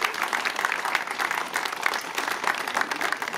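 Audience applauding at a ceremony for a renovated school complex in Évry-Courcouronnes, a steady, dense wash of hand claps from a crowd, sustained at even volume throughout with no speech over it.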